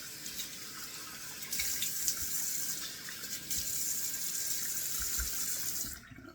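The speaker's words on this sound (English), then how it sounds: "let me turn the cold water on." Cold water runs steadily from a bathroom tap into a sink during a wet shave, a continuous close hiss and splatter that stops abruptly at the end.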